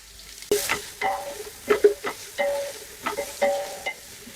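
Three chopped onions and two torn green chillies fry in a hot pan, with a soft steady sizzle under repeated scraping and stirring strokes, about seven close, clear bursts with no talking.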